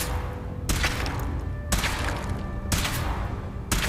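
Weapon fire aimed at a power armor suit in Fallout 4, four loud broadband blasts spaced about a second apart, each with a sharp onset and lingering decay over a steady rumbling background, no talk.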